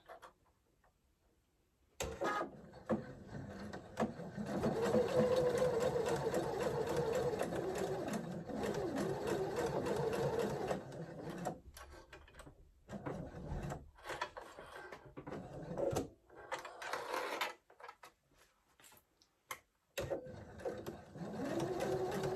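A sewing machine stitching fabric scraps together for a ring pin cushion runs in long steady whirring stretches, close and clear, broken by short pauses and stops and restarts, with no talking.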